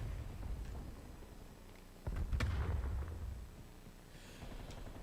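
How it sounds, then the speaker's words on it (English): Grenade launcher rounds detonating in a video game: a muffled rumble, then a sharp close blast with a crackling burst and heavy low rumble, followed by fainter distant pops as the noise settles. "that person is loving the little grenade launcher."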